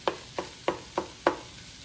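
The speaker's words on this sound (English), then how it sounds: "So I'm going to put my eggs back in there." Spatula strikes turkey fried rice and chopped egg inside a Power XL cooker: five evenly spaced, crisp taps about a third of a second apart, close and moderately loud, with no talking.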